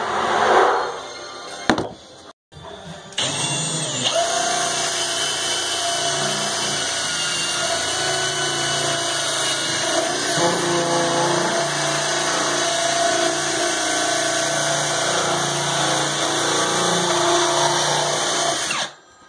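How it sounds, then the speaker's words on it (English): A power-driven inside pipe cutter chewing a glued pipe out of its fitting runs as a loud, steady whirring grind close by for most of the stretch, starting after a brief clatter and stopping abruptly at the end. "So I'm gonna have to chew this piece of pipe out of there."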